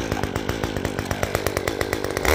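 A chainsaw runs steadily up close while cutting a branch, its engine buzzing with a rapid rhythmic pulse as it cuts, without any talking.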